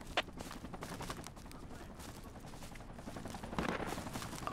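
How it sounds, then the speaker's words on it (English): Distant gunfire in the Vietnam-era shooter Project Reality, on the Charlies Point map, comes as faint scattered bursts and rattling shots spread across the clip. "I heard gunfire there"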